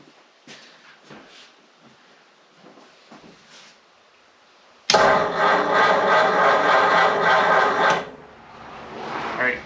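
A 1937 Ford engine cranking over: quiet shuffling gives way to a loud, steady grinding crank that runs for about three seconds and then stops abruptly.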